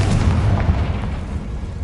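A dense, loud explosive boom fills the whole moment, a continuous blast with rumbling low end from Bombarda and Confringo spells in a video game.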